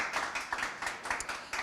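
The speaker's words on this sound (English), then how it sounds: "Plentiful and well-deserved round of applause for Hamza there" A small group claps for an election winner at a results announcement, a thin, uneven patter of hands heard fairly close with no talk over it.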